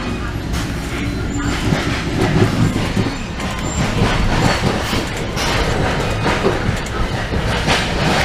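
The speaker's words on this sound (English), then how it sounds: "there's a CP locomotive train right there" A CP freight train thunders past close by near Montreal, with loud continuous rumbling, clattering wheels and some metallic squeal throughout.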